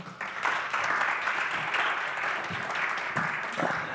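Audience clapping at the launch of an awards event at a science park in Linköping, a dense, sustained round of applause from a seated crowd, steady and fairly close throughout.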